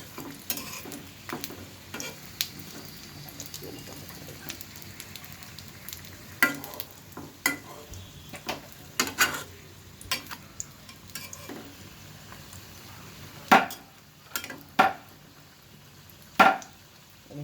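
Mughlai paratha made with eggs, flour and moong dal frying in a little oil in a small pan: a soft continuous sizzle with repeated spatula scrapes and taps, a few sharper knocks toward the end.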